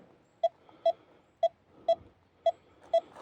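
A metal detector pinpointer beeps in short electronic bursts at a steady pace, six in about three seconds, over a low outdoor background.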